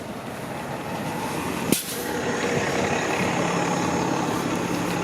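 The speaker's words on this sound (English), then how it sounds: "Especially like crowded buses like this one here in the 925." A crowded TTC route 925 city bus idles on Pape Avenue in Toronto's East York at rush hour, a steady low engine rumble with traffic noise and one brief sharp hiss early on.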